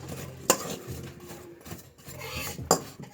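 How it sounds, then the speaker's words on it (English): A utensil scrapes and stirs sliced apples with a splash of lemon juice in a bowl for apple pie, giving two sharp clinks against the bowl between softer rubbing strokes, close and without talk. "Mix it all up."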